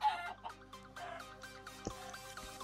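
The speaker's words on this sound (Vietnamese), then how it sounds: "Đập ra được mỗi con gà là vậy." Minecraft chicken freed from a lucky block, giving several short, soft clucks in an irregular rhythm, close by and fairly quiet, with no voices.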